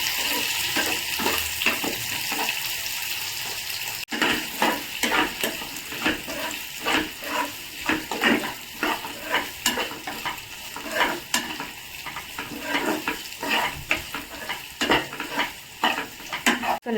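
Onions stirred and frying in a pan for a family Sunday recipe, a steady sizzle under repeated scraping and stirring strokes that come in quick irregular bursts, close and fairly loud with no talking.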